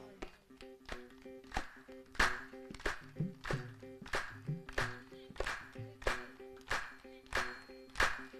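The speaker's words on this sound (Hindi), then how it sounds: "तब तक आप ढोलक मत बजाना जब तक इनकी तालियों की आवाज ना आए" Rhythmic clapping in time from an audience at a devotional Khatu Shyam kirtan, about a dozen sharp, evenly spaced claps over a steady sung or harmonium drone, moderately distant.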